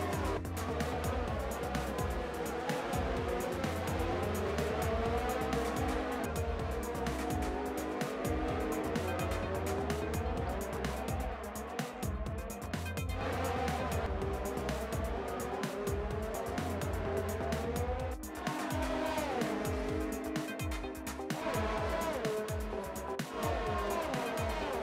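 An F1 2019 race car at Baku roars with a steady, loud engine drone while its tires scrub and skid as it slides into the wall, the noise continuous throughout.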